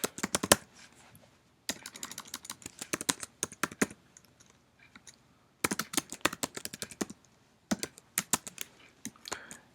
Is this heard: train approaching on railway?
no